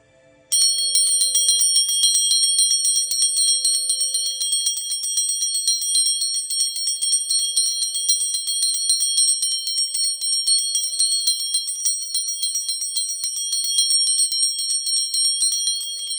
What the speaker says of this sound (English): I'm going to begin using some chimes to kind of wave through the body